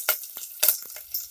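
Mustard seeds, cumin and curry leaves hit hot oil for a Kannada avarekai masala sambar, giving several short, crackling sizzle bursts with brief quiet gaps between them.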